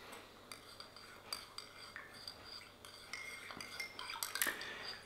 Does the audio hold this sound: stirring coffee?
yes